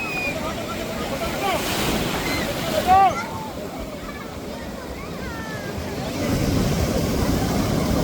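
Strong sea waves crash and wash continuously at Arthunkal beach, with wind buffeting the microphone and voices faintly audible.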